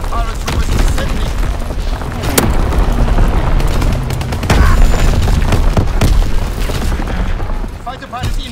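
Artillery barrage explosions in the Call of Duty WWII video game, deep rumbling booms and scattered sharp blasts rolling continuously, with voices speaking over the din.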